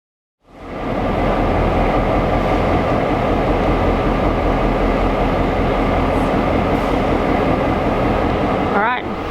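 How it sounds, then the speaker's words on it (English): A BLH 750 diesel locomotive of the Kuranda Scenic Railway idles at the station, giving a loud, steady engine rumble and drone that holds unbroken for several seconds. A brief squeal comes near the end. "I then returned to the station for my 3:30 p.m. return train."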